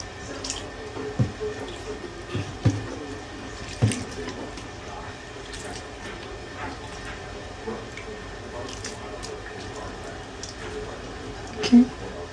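Liquid poured steadily from a container to douse rib bones, a soft continuous splashing trickle close by with a few louder bursts, talking nearby.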